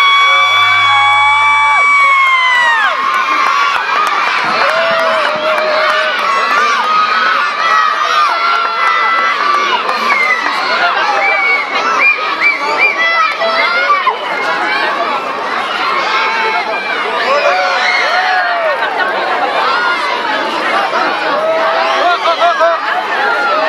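Crowd of children shouting and cheering together at a Santa Claus descent event in December, a loud, sustained wall of young voices with whoops and overlapping calls, plus adult chatter mixed in.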